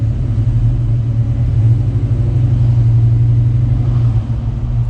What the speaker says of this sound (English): Riding with Steve Saleen in an 88 Foxbody Saleen